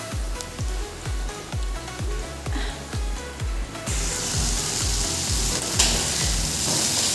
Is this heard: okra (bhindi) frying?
yes